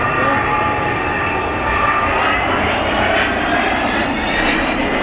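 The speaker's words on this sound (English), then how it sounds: "Vulcan, of course, originally designed as one of the 3 V-bombers to form part of Britain's nuclear deterrent." The Avro Vulcan XH558 delta-wing bomber flies a display at the 2009 East Fortune Airshow, its jet engines giving a loud, continuous roaring rumble with a steady howl, and a commentator talks over it.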